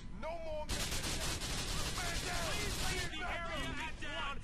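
Sustained burst of gunfire in GTA IV: The Lost and Damned, a dense rattle filling most of the clip at steady loudness, with voices talking over it.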